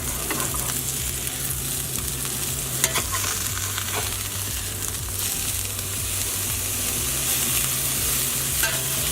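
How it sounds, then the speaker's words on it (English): Turkey burgers fry steadily in a hot pan, a loud continuous sizzle with a few soft scrapes and clatters as the patties are flipped, no voices. "Alright, so now I'm going to flip."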